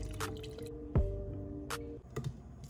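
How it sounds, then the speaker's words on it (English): Horchata poured over ice into a mug, with quiet drips, a splash and soft liquid squishes, close and faint with no talking. "let's pour up this horchata"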